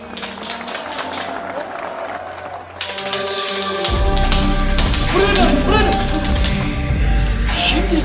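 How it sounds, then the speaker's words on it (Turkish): Studio audience applauding at a Turkish comedy stand-up set, the clapping swelling into a louder, denser burst partway through, with music and a voice running under it. "Hiç alkışları kesmiyoruz"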